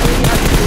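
Rapid gunfire fills a competitive online shooter scrimmage in an esports elimination match, with dense, continuous bursts of shots crackling at steady loudness and no break.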